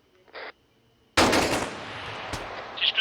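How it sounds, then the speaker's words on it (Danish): Automatic gunfire from an Arma 3 firefight erupts after a short high tone, a dense sustained burst of shots that holds loud and steady, with a sharper crack partway through. "De skyder på os, Omil, Omil."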